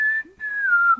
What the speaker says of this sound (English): I just love a good whistling song.